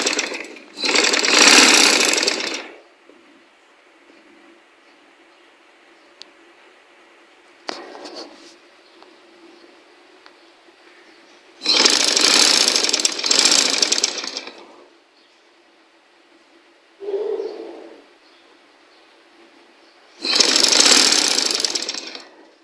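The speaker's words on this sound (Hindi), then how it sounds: "अब हम इसको सीधी साइड पे मोड़कर सिलाई लगा लेंगे।" A sewing machine stitches a folded seam on a stylish tunic top in three loud, steady bursts of rapid needle chatter. Quiet pauses separate the bursts, and a few soft handling knocks fall between them.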